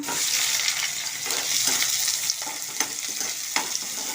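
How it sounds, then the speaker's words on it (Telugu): Onions and green chillies frying in hot oil in a pan, a continuous bright sizzle with small pops and stirring scrapes, close and steady, with no talking. "మన ఉల్లిపాయ పచ్చిమిరపకాయలు యాడ్ చేసుకుందాం"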